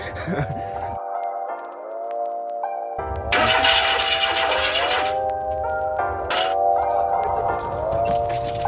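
A Volkswagen Golf Mk1 petrol engine cranks in repeated bursts, its starter whirring up several times with mechanical clatter and rising pitch between attempts.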